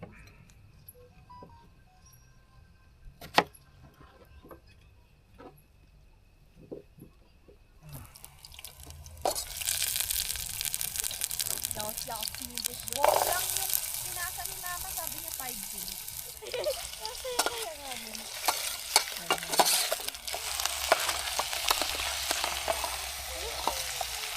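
Tinola soup cooking in a pot at a cold mountain campsite in Atok, Benguet, with steady sizzling, bubbling and occasional stirring clinks, starting quiet and growing louder after a few seconds, with faint voices now and then.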